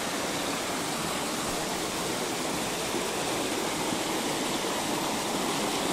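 Water flowing along a mountain stream bed, a steady, loud, broadband rush that stays constant and close throughout with no voices.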